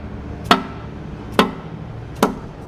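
Three sharp metallic hammer blows, evenly spaced about a second apart, strike a part during a 1953 Cummins diesel engine rebuild in a shop, close and clear over a low background hum.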